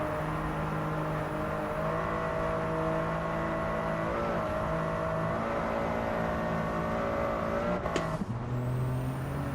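A racing car engine in a video game time trial holds a steady high rev near the top of its range, loud and continuous, then dips sharply with a brief gear-change jolt near the end; no voices.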